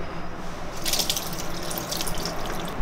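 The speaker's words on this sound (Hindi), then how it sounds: "अब हम पोहे का पानी निकालते हैं।" Water pouring and splashing as it drains out of soaked flattened rice (poha) in a home kitchen, a steady close trickle with brief splashy bursts.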